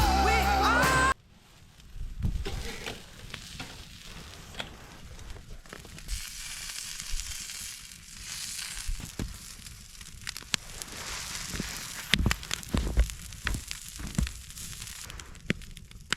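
Boar, apple and sage sausage sizzles over a campfire on a wintery solo camping trip, with a soft steady crackle and scattered pops and snaps that follow a brief opening burst.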